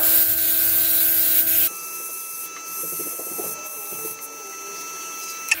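Luminess airbrush spraying makeup blush, a steady airy hiss that runs loud at first, then drops to a quieter continuous spray with faint handling clicks.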